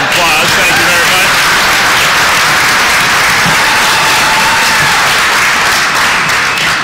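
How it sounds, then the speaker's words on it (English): Loud audience applause at a transit line grand opening, a thick continuous roar of clapping close by with voices mixed in, lasting throughout. "which I think is worth a round of applause"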